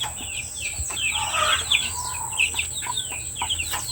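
Two-month-old chicks cluck and chirp in a busy, overlapping chorus at feeding time, steady and close with frequent short calls and no talking.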